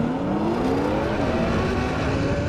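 A Ferrari and a Nissan GTR accelerate side by side in a drag race, a loud, continuous engine roar whose pitch rises steadily as the revs climb, close and without speech.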